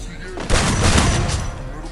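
Rapid bursts of gunfire in a battle royale shooter game, loud and dense from about halfway through, with a constant game background underneath and no talk.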